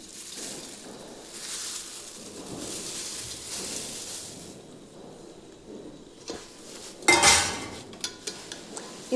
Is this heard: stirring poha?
yes